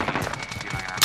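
Rapid automatic gunfire from an AK-47 in Call of Duty Modern Warfare, a quick burst of close, crackling shots packed into about a second.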